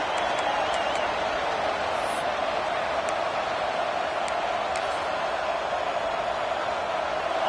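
A dense stadium crowd at an NCAA college football game, a steady loud roar of cheering voices that holds without a break for several seconds, with occasional faint whistles above it.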